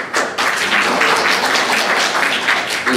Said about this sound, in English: We don't allow clapping